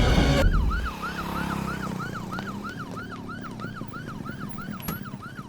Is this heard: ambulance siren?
yes